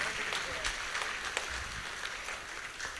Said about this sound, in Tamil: ஒரு சிறந்த ஒரு கைத்தட்டை வழங்குமாறு நான் தாழ்மையுடன் கேட்டுக்கொள்கின்றேன்